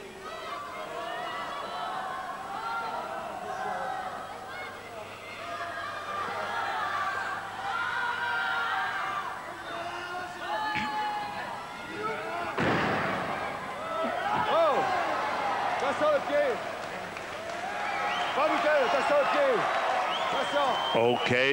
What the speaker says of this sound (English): this huge crowd at Gravellinia really enjoying this terrific show of